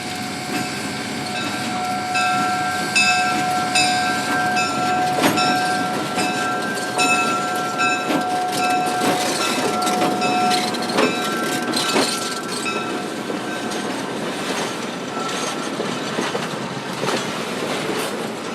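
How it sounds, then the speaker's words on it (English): Freight train pulled by steam locomotive number 618 on a scenic railroad along Deer Creek Reservoir, Utah, a loud steady rumble of rolling wagons with rhythmic clatter and a sustained whistle tone lasting through much of the passage. "number 618 will be pulling a freight train just for photographers"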